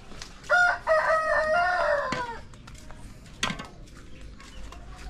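A rooster crows loudly and close by at a backyard poultry pen, followed by scattered clucks and rustling from the flock.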